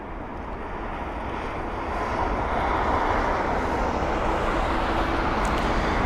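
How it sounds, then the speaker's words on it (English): An American airliner passes at London Heathrow, its engine roar building to a louder steady rush partway through and holding to the end. "there it is, American airliner right behind as well"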